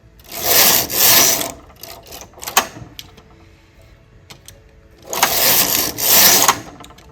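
A domestic knitting machine carriage is pushed across a row, making two loud, clattering mechanical runs with quieter clicks and handling noises between them, close up.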